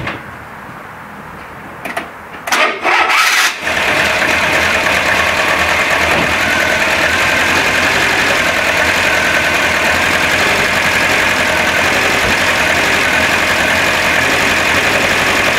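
A Renault Trafic T1000 van engine, suspected of not firing on all cylinders, cranks with a few clunks, then catches and settles into a loud, steady idle.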